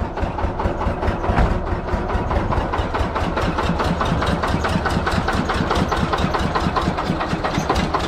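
A Thai home-built farm vehicle with a turbocharged engine idles after starting, a steady loud knocking chug that keeps an even rhythm, close up with no talking.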